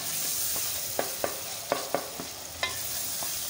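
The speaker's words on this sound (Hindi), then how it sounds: "ये पहले हम लोग मसाला भून रहे हैं" A masala of onion and tomato fries in a pan for a dhaba-style chana mash dal, with steady sizzling underneath and a handful of sharp scraping stirs of the spoon, close by and with no talking.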